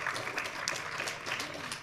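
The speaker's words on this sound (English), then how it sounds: "Yes, more applause, please." Audience applause at a talk, a dense even wash of clapping with no distinct individual claps standing out, moderately quiet and steady for the full two seconds.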